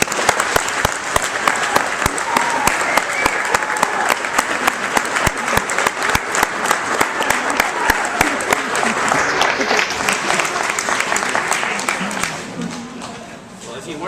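A standing audience applauds a man after a family tribute, steady dense clapping running loud for about twelve seconds before tapering off near the end.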